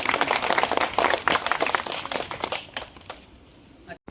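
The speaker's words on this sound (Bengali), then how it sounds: "এইবার জোরে হাততালি হবে দীপদাসের জন্য।" A school crowd claps loudly for a student receiving a medal for scoring 90 percent, a dense burst of applause that holds for about three seconds before thinning out and stopping.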